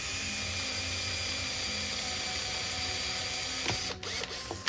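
A screw is driven through wood and PVC with a steady grinding, ratcheting whir that carries on for about four seconds, then a few sharp clicks and knocks as it stops, close and loud.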